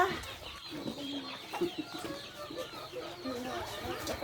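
Several chickens cluck and chatter nearby in an outdoor yard, their calls overlapping continuously, with faint voices in the background.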